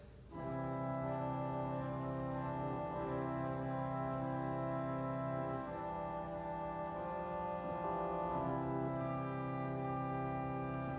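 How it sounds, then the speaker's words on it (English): A rich, sustained pipe organ chord on a string celeste stop, with a shimmering, string-like quality, swells and shifts slowly, thick and continuous, with no voices. "That's our strings, or we call it celeste on this."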